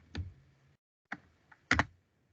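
A computer keyboard is clicked in a few separate bursts of keystrokes, close and fairly quiet, with short gaps of near silence between them.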